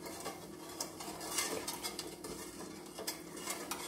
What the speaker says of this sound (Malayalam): ഇനി നമുക്ക് സ്റ്റൗവിൽ വെക്കാം ഇത് നന്നായിട്ട് ഇളക്കിക്കൊണ്ടിരിക്കണം